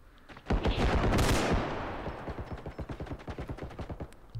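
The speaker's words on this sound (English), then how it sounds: "Got a lot of gunfire in here." Rapid automatic gunfire in the Bodycam video game, a loud burst followed by a steady run of evenly spaced shots that taper slightly, heard alone with no talking.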